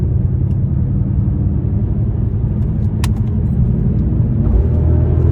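A deep, continuous Audi S8 V10 engine rumble drones steadily and loudly throughout, with a brief high click partway through.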